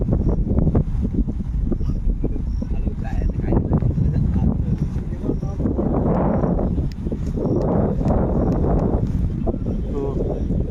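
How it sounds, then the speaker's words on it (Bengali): Strong sea wind sweeps across the beach at Tajpur at night, a constant roaring rush buffeting the microphone, with faint surf underneath and people talking through it. "আর সমুদ্রের কি হাওয়া দেখুন"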